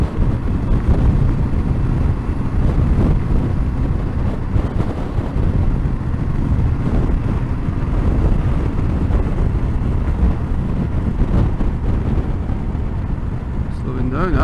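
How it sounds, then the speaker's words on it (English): Strong gusting crosswind roars steadily across the microphone while riding a Yamaha Tenere 700 motorcycle through the Welsh mountains, a dense, loud buffeting with engine and road rumble underneath throughout. "That's a strong wind blowing. Completely sideways on us."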